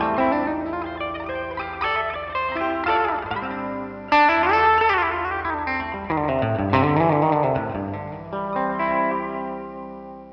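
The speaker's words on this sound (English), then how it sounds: "I'm just playing double stops up the major scale" Electric guitar with effects, chorus and slight distortion, plays double stops climbing up a major scale during a soundcheck; paired notes ring steadily with a rhythmic step-by-step ascent and some reverb, no voices.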